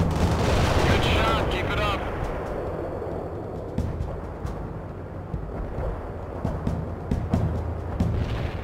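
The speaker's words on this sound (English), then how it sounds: "Heavy artillery barrage inbound." A heavy artillery barrage in the World in Conflict Soviet Assault campaign: dense booming gunfire and blasts fill the start, easing to scattered sharp shots and distant thumps against a rumbling battlefield.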